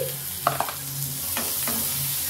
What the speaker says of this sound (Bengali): এবার আমি বেগুনটা ভেজে নিচ্ছি